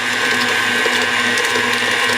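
An electric mixer whirs continuously and loudly through Victoria sponge cake batter of eggs and self-raising flour, a steady mechanical drone with no voices.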